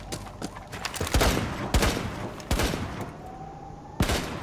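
Several sharp gunshots from a Rainbow Six Siege match, fired at intervals as they break a castle barricade in the Kafe Dostoyevsky map, loud and close with a brief ringing tail after each.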